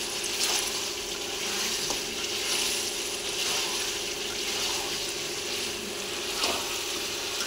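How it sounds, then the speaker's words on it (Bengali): Meat sizzling steadily in a pan as it is fried for kosha mangsho, a constant close hiss with faint bubbling and occasional soft knocks. "মাংস কষানো হয়ে এসছে, দেখেন মাংস থেকে তেল বেরিয়েছে। আর একটু আমি কষাবো।"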